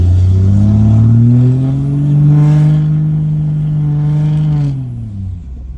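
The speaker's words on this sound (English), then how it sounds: "I don't think people realize how loud these trucks are." Heard from inside the cab, a loud diesel truck engine from a second-gen swap build revs once, rising into a deep roar, holding, and then settling back down.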